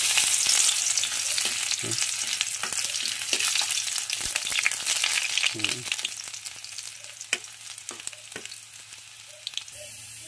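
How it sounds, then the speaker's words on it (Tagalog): Garlic sautéing in a small frying pan as a sauté base for a crab dish, a steady loud sizzle with occasional stirring clicks and scrapes; one brief spoken word. "So, gisayin na natin"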